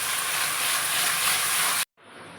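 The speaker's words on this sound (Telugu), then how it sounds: "కొద్దిగా ఫ్రై చేస్తాను." Fish fries in oil in a kadai, giving a loud, steady sizzling hiss. The sizzle stops abruptly near the end, then resumes more softly.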